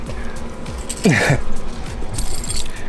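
A set of keys jangles briefly near the microphone, a short bright metallic rattle standing out over a low outdoor background hum.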